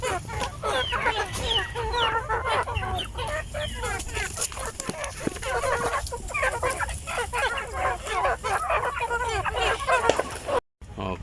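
A flock of chickens with a rooster clucks busily and continuously up close in a farm pen, with many overlapping calls and a brief drop to silence near the end.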